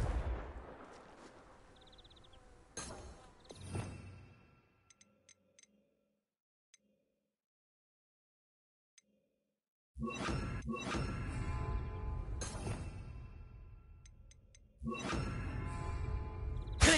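Blasting spell cast in Hogwarts Legacy, a set of loud crackling bursts and booms that recur at intervals, with near silence in between and no speech.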